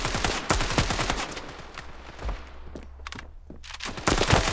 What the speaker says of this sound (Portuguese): esse cara já tava até sem bala, ele ficou dando bastante tiro em nós